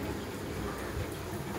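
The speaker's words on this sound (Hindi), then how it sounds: "4:30 बजे से बारिश हो रही है, बारिश रुकने का नाम तक नहीं ले रही।" Heavy rain pouring down steadily, a dense, even hiss of falling water with no pauses, moderately loud and uninterrupted, with no voices.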